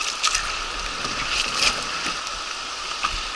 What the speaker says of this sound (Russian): Вот такая наша речка.